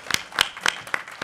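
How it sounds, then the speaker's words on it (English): A few people clap sparsely at a TwitchCon 2018 panel on streaming, four or five distinct claps spaced unevenly over a brief moment, close and crisp. "So give a round of applause."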